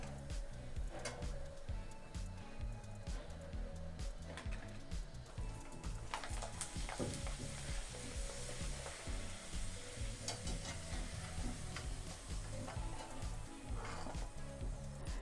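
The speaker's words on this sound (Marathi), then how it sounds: "याच प्रकारे अजून पापड आपण तळून पाहूयात हे पहा तेलामध्ये टाकल्या टाकल्या हा पापड छान फुलून वरती येतोय" Ragi papad fries in hot oil, giving a steady, dense sizzle with crackling pops throughout, fairly quiet and continuous, with no talk.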